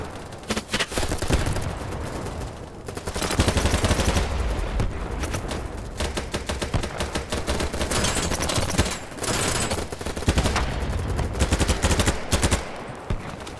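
Rapid automatic gunfire from the online shooter BattleBit Remastered rattles almost continuously, loud and close, in long sustained bursts with brief gaps, no talk over it.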